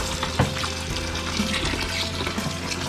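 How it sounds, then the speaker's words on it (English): Tap water running into a pan for sterilizing canning lids, a steady splashing gush with a brief louder splash near the start. "now I'm going to fill up this pan for the lids"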